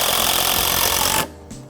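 A screw is driven into deck railing spindles, a loud continuous buzzing whir of the driver that stops abruptly near the end and leaves a faint short tail of sound.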